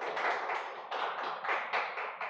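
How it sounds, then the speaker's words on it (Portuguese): Brief round of applause for guest István Wessel: a small group claps in uneven bursts, close and moderately loud, with no voices. "Salva de palmas, sensacional"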